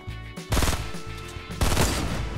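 Two loud bursts of rapid automatic gunfire in Fortnite, close and harsh, separated by a brief pause.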